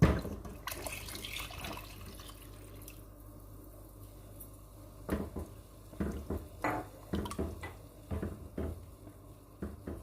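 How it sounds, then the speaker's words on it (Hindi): Water poured into a pot of beef nihari, a quiet trickling splash followed by intermittent drips and small clinks, with no talking. "अब मैं इसके अंदर पानी मिला रही हूँ।"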